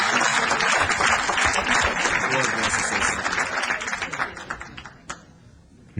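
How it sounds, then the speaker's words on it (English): A city council chamber audience applauds a performing group, full sustained clapping that thins out and fades toward the end, leaving a few scattered claps. "Give them another round of applause"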